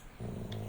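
A dog in the Minecraft video game gives a short, low, rumbling growl that rises suddenly and holds steady, heard close and fairly quiet.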